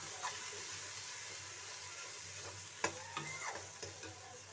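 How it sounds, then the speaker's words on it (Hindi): Spices fry in a pan for a cauliflower, potato and pea curry, giving a steady close sizzle with a few sharp spoon scrapes and taps against the pan. No one speaks. "इन मसालों को आपको पाँच मिनट तक भूनना होगा।"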